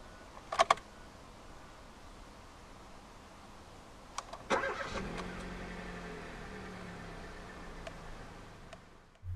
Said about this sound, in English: to start, put your foot on the clutch, insert the key into the slot right here, and twist it like you would in a normal car.